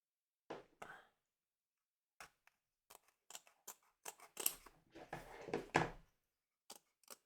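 Scissors snip through embroidery stabilizer to free a machine-embroidered Halloween kitty from its hoop, a few close, quiet cuts spaced out, then a busier cluster of crisp snips.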